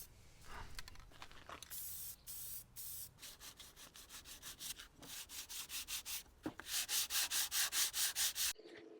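Wooden patterns cut on a CNC router are hand-sanded between paint and filler coats, a close, steady rhythmic rasp of back-and-forth strokes that grows into regular, even pulses toward the end, with no talking.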